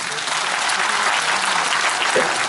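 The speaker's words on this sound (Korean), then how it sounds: "자 우리 최선호 고문님을 위해서 큰 박수 한번 부탁드리겠습니다." Concert audience gives a big round of applause for an adviser at a company's 20th-anniversary community concert, a steady, full wash of clapping throughout.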